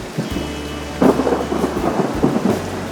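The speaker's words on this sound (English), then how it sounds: "unfortunately it's raining" Heavy rain pours steadily on Nisyros, Greece, while deep rumbles of thunder roll through, with a few louder cracks and bursts standing out against the downpour.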